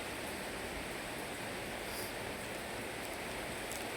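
Steady, faint rain falls close by, an even hiss that holds without a break or change and with no voices over it.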